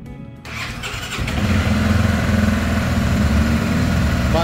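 A Honda XRE 300 motorcycle engine with a freshly repaired cylinder head cranks and catches on a cold start, then settles into a steady, close, throbbing idle.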